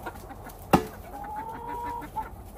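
A backyard flock of chickens clucks close by: one sharp, loud cluck, then a drawn-out call and a softer cluck near the end, with no talking over them.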